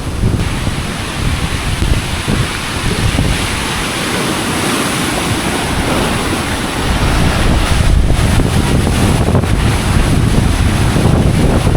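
Strong, gusty typhoon wind on Camiguin de Babuyanes Island in the Philippines, roaring and buffeting the microphone continuously, with a broad rushing noise that swells slightly toward the end; no voices.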